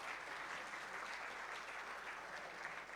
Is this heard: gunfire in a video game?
no